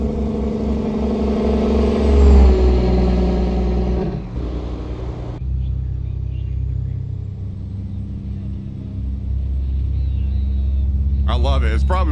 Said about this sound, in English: Running a Cummins ISX here. And it sounds beefy.